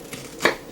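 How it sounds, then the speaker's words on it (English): A knife cuts through an onion on a cutting board, making two quick, close chopping taps, the second louder and crisper. "Cut through your onion"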